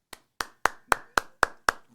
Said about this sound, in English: you get one clap